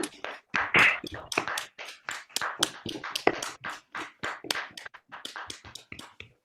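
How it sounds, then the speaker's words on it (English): Participants in an online meeting clap through their microphones after talks, producing a string of sharp, uneven claps and taps from several people, some overlapping, fairly close and moderately loud, with no voices. "can we give our speakers a round of applause for those fantastic talks?"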